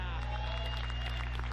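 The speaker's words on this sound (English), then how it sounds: "The crowd approves." Spectators at a disc golf tournament, the Mango Classic, clap in a short, fairly faint burst of applause over a steady low hum.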